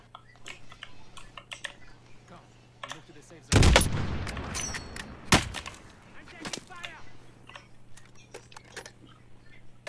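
A sudden loud burst of gunfire from a first-person shooter game on PS4, followed by a second sharp shot and scattered clicks, with quieter game noise around it.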